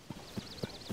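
A horse in the Zelda: Tears of the Kingdom video game trots with about four evenly spaced clip-clop hoofbeats under a wavering high-pitched game tone, quiet and alone without speech.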